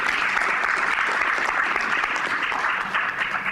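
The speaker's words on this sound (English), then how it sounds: "But I think we should give them all a big round of applause." An audience at a medical lecture on ruptured aortic aneurysm trials breaks into steady, dense applause, a loud continuous patter of many hands clapping without a break.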